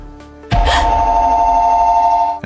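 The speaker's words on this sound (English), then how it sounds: "A second call comes in." A telephone bell starts ringing abruptly and holds a loud, steady, continuous ring close by, with no voices.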